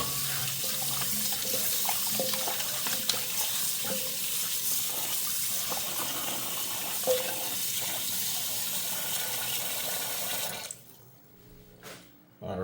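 Tap water runs steadily over chicken in a sink while it is rinsed for stew, a constant close splashing rush that stops suddenly toward the end.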